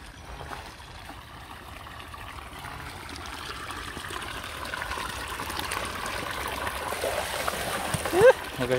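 Cold water runs and trickles steadily on a rural Brazilian farm, a continuous close splashing stream that grows slightly louder toward the end, with a brief splash near the close.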